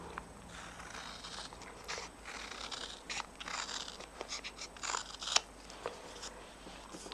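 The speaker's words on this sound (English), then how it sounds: "I'll put my big scissors on these because it'll be quicker" Large scissors cut through paper, crunchy snips and slicing strokes repeating unevenly at close range, quiet against a soft background hiss, no voices.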